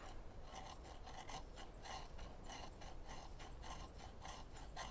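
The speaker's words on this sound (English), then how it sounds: "let's do a bunch of little fine shavings here" An OffGrid SideKick knife shaves fine curls from wood, giving a steady run of dry, raspy scraping strokes in quick repeated rhythm, close and fairly quiet.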